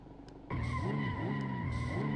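Toyota Supra spinning out in the Assetto Corsa video game at Buttonwillow: a sudden loud tire squeal starts, then holds with a wavering pitch over the engine noise until the end.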